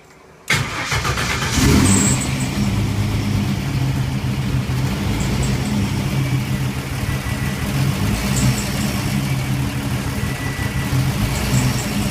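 Cold car engine restarting with a sudden catch, then running close and loud at a rough, uneven idle while throttle blips raise and drop the revs, no voices over it.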